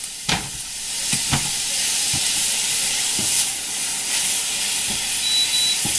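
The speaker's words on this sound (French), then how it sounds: "une fois que votre poêle est chaude, on met les lanières de porc" Pork strips sizzle in hot oil in a frying pan on medium heat, a continuous loud hiss and crackle with a few scattered utensil knocks and taps.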